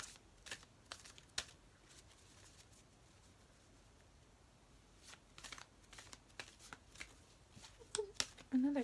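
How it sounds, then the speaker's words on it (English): Tarot cards being shuffled and dropped, with soft riffling flicks and light slaps scattered irregularly throughout, close and quiet, with faint bird cooing in the background. "So I'm gonna start throwing cards everywhere."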